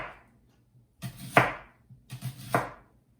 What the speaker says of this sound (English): it'll keep you from crying while you cut the onion